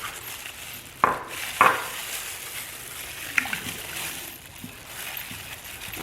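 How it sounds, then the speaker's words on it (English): Fragrance oil stirred by hand into a soap mixture, with soft liquid swishing and a few sharp clinks of a utensil against the container, close and moderately quiet. "I'm gonna stir this in by hand."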